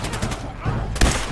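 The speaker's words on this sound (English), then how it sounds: "Shooting at me now." Enemy gunfire in Fallout 4 comes as a quick burst of several shots within about a second, loud and close, mixed with faint game sound.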